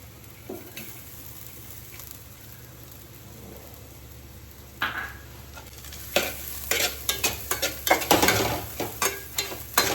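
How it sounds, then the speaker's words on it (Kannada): Grated coconut stirs and fries in a pan, a soft sizzle at first, then scraping spoon strokes and pan clatter grow louder and more rhythmic toward the end. "ತೆಂಗಿನಕಾಯಿ ತುರಿ ಹಾಕ್ತಾ ಇದ್ದೀನಿ"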